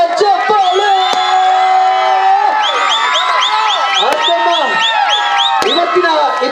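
A loud crowd cheers, whoops and shouts continuously at a 21 kg laddu auction in Chikkaballapur, the noise steady and dense throughout, with voices mixed in; clear clapping is not evident beneath the cheering.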